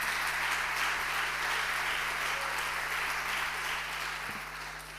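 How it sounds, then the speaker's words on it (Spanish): An audience applauds at the opening of an international cultural policy conference. The clapping is dense and sustained, heard at a moderate distance with room ambience, and fades slightly at the end. "un aplauso para ellos"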